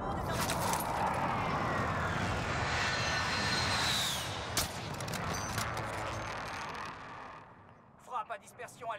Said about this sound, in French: Bombardement de précision en approche